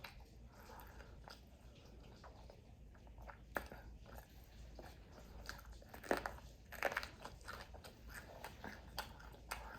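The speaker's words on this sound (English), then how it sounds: "I can't swallow yet while I'm still chewing." Close-up mouth noises of someone eating fried lumpia chicken wingettes and seasoned fries, with steady wet chewing, soft squishes and occasional sharp crunchy bites that grow louder toward the end, no talking.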